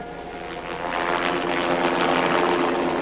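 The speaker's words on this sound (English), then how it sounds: "News helicopters. Don't they ever run out of gas?" News helicopters circle overhead, a steady droning rotor and engine rumble that swells slightly louder after the first second and holds, with no voices present.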